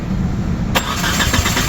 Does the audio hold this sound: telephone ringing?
no